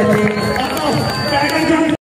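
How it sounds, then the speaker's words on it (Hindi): Audience at a spring festival clapping for students on stage, dense continuous applause and crowd noise filling about two seconds, close and loud, then cutting off abruptly. "जोरदार तालियां बजाएं भाई"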